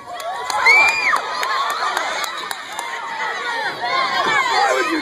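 A crowd cheers and shouts with excited whoops and chatter, loud and continuous throughout.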